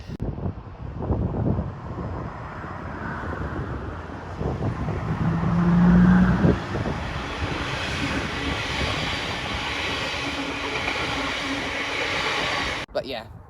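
A Class 385 train passes at an Edinburgh station, a loud broad rumble that swells to a peak and eases off before cutting out abruptly near the end.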